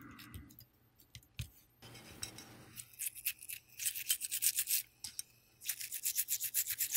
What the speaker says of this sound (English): I use this isopropyl alcohol on an old toothbrush and just scrub it till all the extra flux is gone